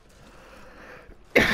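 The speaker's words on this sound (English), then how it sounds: "Bad cough still here." A single sharp cough bursts out near the end after a stretch of quiet room tone, loud and close.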